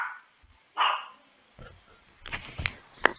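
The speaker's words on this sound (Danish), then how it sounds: "Det var min hund." A pet dog barks a few times, sharp yelps clustered near the end with a short burst earlier, fairly close in a quiet indoor room with no talking.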